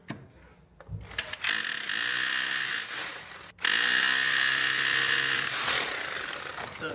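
An electric impact wrench runs in two sustained bursts with a brief pause between, loud, close and mechanical, with a harsh whirring rattle.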